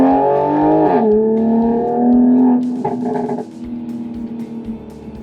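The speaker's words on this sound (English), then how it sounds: "As I downshift, it reminds me of a twin clutch in that sense, where it's really quick." A Toyota Supra A90 with an 8-speed automatic gearbox downshifting: a steady engine note drops in pitch, then a quick blip of revs and a lower, rougher drone as the gears change, heard from inside the car.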